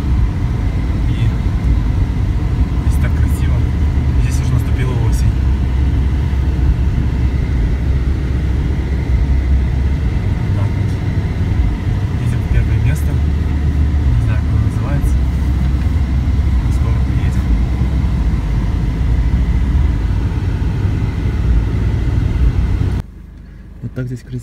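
A car cruising along the road toward Sequoia National Park gives a steady, loud interior engine and road drone, with a person speaking over it, before it suddenly drops out near the end.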